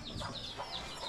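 Chickens on a backyard farm cluck in a steady, close, low-level chatter of short overlapping calls through the whole moment, with no talk.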